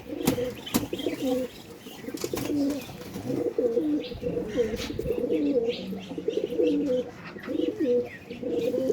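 Pigeons at a high-flyer pigeon farm coo in repeated soft, throaty phrases, close by, with occasional chirps and sharp knocks or wing flutters, no clear talk.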